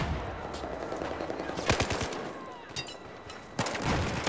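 Gunfire in the Battlefield 4 beta, sharp bursts of automatic shots and single cracks in short clusters against a noisy battlefield backdrop, fairly close and loud, while a voice talks quietly underneath.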